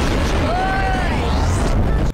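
A large aviation bomb detonating in Garry's Mod, a loud sustained rumbling blast filling the whole clip with whistling debris tones before cutting off abruptly.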